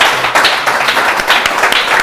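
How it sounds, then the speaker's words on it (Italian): An audience applauds in a TV studio broadcast, dense continuous clapping from many hands, loud and close, with no clear pauses. "facciamo un applauso"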